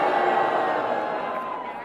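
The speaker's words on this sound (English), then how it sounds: "So instead of a cheer, could you guys all boo Shat for me?" Large concert crowd booing loudly at a Takeover Tour show, a dense sustained roar of voices that fades slightly toward the end.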